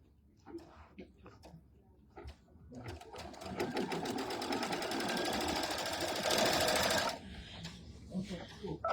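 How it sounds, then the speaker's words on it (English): Sewing machine stitching quilting fabric for a small pieced fall trivet, a steady rapid mechanical chatter running for several seconds in the middle and then stopping, with light handling sounds and a few soft spoken words around it. "Do our next stitch."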